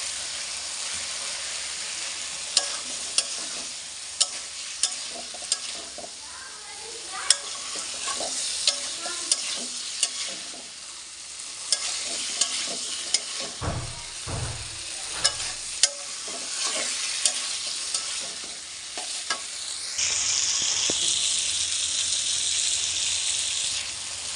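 Potatoes fry in a pan of spiced oil for dhoka. A loud sizzle runs throughout, broken by regular sharp scrapes and clacks of stirring and a brief low thump midway, with no talking.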